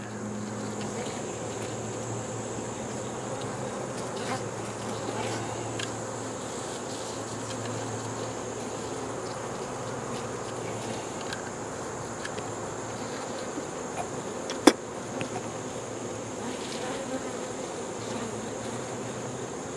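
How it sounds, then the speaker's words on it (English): Busy honeybees hum around a hive, a constant close buzzing drone with a few individual bees passing nearer and one brief sharp tick partway through. "as you can see, they're real busy bees"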